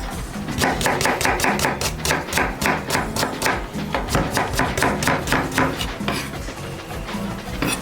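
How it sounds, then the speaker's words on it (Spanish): A knife chops an onion on a cutting board while Peruvian chicken adobo is prepared in a kitchen. Quick, steady, evenly spaced chopping strikes sound close and fairly loud throughout. "Vamos entonces empezamos a cortar nuestra cebolla."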